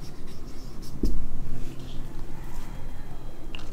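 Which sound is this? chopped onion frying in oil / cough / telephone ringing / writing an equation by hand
writing an equation by hand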